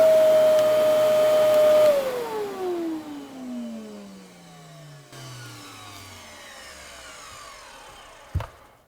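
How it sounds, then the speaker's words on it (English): A Kenmore Progressive 27514 canister vacuum with suspected bearing noise runs with a steady high-pitched motor whine, then shuts off and spins down in a long descending tone that fades out before a sharp click at the end. "It's still making that high-pitched woo, which obviously wasn't the fault of the clog."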